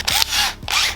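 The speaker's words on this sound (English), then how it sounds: "I have a drill bit already, and I'll just make a small hole first." A power drill bores a small pilot hole in an ABS plastic panel during amplifier wiring in a 2021 Ford Explorer, close and loud, with two short whining bursts separated by a brief pause.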